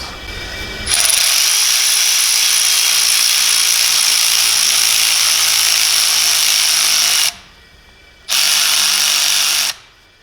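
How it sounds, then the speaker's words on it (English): An electric ratchet whirs loudly and steadily while compressing a valve spring on a BMW N46/N42 engine. One long continuous run is followed by a brief pause and a second shorter burst. "spring and going to push up once again with the electric ratchet."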